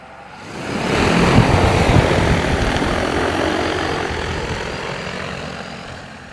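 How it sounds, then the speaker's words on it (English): A drone lifts off and flies away, giving a loud, steady propeller buzz that swells within the first second and holds, easing only slightly toward the end. "I'm gonna fly it over to where we actually need it to calibrate it."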